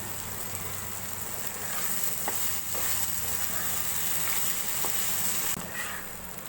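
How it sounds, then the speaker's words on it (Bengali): Loitta fish fries in a pan with green chilies, giving a steady, close sizzle and hiss with a few faint clicks of utensils and no voices. "মাছটা আমি একেবারে ভাজা ভাজা করে নিয়েছি"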